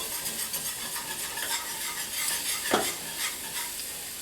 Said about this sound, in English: pour in a little and whisk, whisk, whisk.